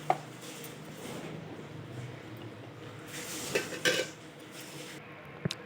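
A spoon scrapes and clinks against a bowl as thick bread dosa batter is scooped in, with a few sharper taps near the end; no talking.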